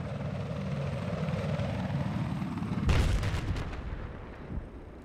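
A military helicopter in the Battlefield 4 video game on Altai Range drones steadily with a rotor hum, then a sharp boom of weapon fire hits partway through and rumbles on under the engine.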